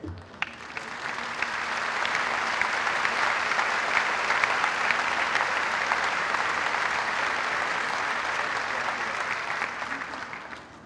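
Sustained audience applause fills a graduation ceremony hall, a dense, steady wash of many hands clapping that holds at an even level for about ten seconds before tapering slightly at the end.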